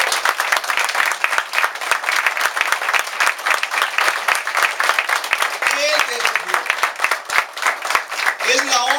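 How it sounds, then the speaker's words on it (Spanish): Congregation applauding in a church during a Sunday morning service, steady dense clapping throughout, with a few brief voices calling out near the end. "Así que dale a Él un fuerte aplauso en esta mañana."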